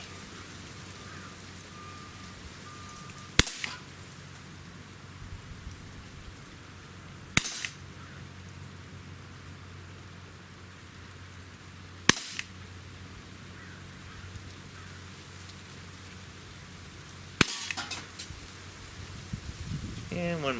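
Four sharp, quiet snaps from a SIG Sauer SP2022 smoothbore BB pistol fired at a 10-meter target, spaced a few seconds apart over soft background noise, with a brief spoken line near the last shot.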